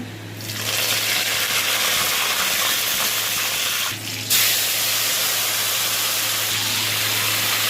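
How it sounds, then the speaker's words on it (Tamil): Mustard seeds sizzle and spatter in hot oil in a pan while cooking tomato thokku, a loud, steady frying hiss that holds almost throughout, with a brief dip midway and no talking. "இப்போ எண்ணெய் போட்டு நல்லா காஞ்சிருக்கு. இப்போ வந்து நம்ம அதில் நான் கடுகும் ஆல்ரெடி சேர்த்துட்டேன்."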